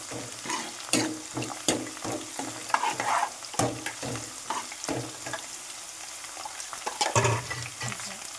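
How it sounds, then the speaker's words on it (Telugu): Half-fried onions sizzle in a pan for a village-style chicken fry, with repeated close stirring scrapes and clacks over a constant frying crackle and no talking. "ఉల్లిపాయలు అయితే సగం వేగినాయి"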